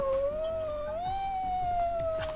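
A pet dog howls in a long, steady, wavering tone that rises and falls over a couple of seconds, close to the mic in an indoor room during a gaming session.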